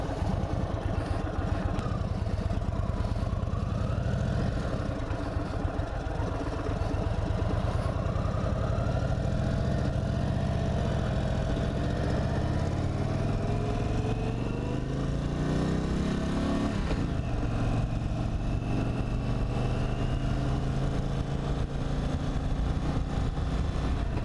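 An Indian Super Chief Limited motorcycle engine idles steadily and close by, with a low, even rumble and a brief rise and fall in revs partway through, without any speech.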